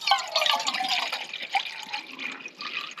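Water streams and splashes into a cup, a bright gurgling pour that runs continuously for a few seconds, outdoors during winter truck camping.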